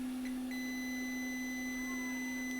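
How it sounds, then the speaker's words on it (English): Steady electronic tone from a multimeter in diode mode, probed on a no-power 820-00165 logic board while its capacitors charge; one continuous beep held throughout, fairly quiet, with no talking. "Now I'm going to do diode mode, so it might beep for a minute until the caps charge up."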